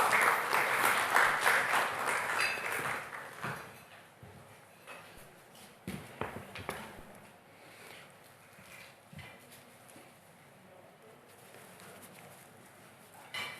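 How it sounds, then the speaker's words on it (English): Audience applause at a Graphic Business and Stanbic Bank business breakfast meeting, loud at the start and then fading into scattered claps and room noise. "Round of applause for him,"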